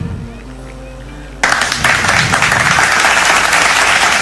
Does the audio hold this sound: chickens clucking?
no